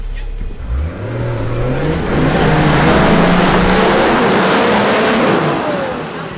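A Nissan Patrol 4x4 engine revs flat out in fourth gear off-road, climbing from a low idle into a loud sustained roar that holds steady and close, with no talking over it.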